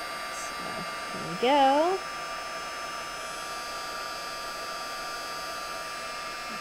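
A craft heat tool blows a steady hot-air whir while it melts embossing powder on cardstock. The hum is continuous and close, and a speaker briefly talks over it near the start.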